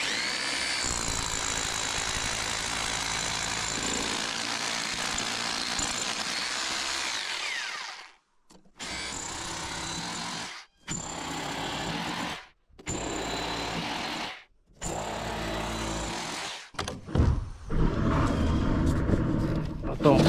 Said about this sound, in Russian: другой рукой делаю отверстие